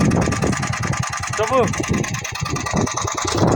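Vehicle engine idling close by with a steady low rumble and hum, running under someone talking throughout.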